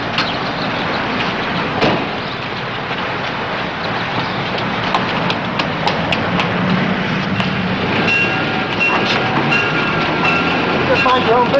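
Train running on rails, a loud continuous rumble and rattle with clicking wheel noise and occasional sharp metallic squeals, close by, with people talking over it at times.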